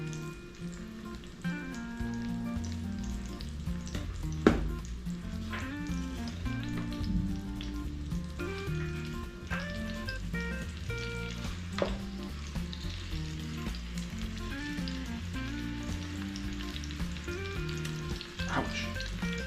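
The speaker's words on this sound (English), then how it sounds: "There, she's starting to sizzle pretty good." Beef sears in a pot in a continuous loud crackling sizzle of hot fat, with scattered pops and a few sharp knocks of a utensil against the pot. No one speaks.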